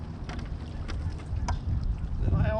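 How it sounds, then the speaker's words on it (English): Gusty wind buffets the microphone on a bass-fishing boat on a lake, a continuous low rumble with scattered knocks and creaks, and a brief voice near the end. "It's so windy"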